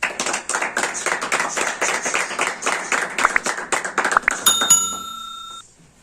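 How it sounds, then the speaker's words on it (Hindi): A church congregation claps loudly, a rapid, rhythmic volley of many hands that stops abruptly near the end, followed by a brief ringing electronic tone and then quiet. "खुदा के जलाल के लिए जोरदार तालियां।"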